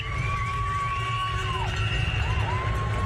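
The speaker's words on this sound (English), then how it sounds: "the crowd appreciating the effort they're making" Roadside spectators cheering a pro cycling stage at the 2017 Santos Tour Down Under: a loud, continuous crowd roar of shouts, whoops and children's cries, with sustained whistles piercing through.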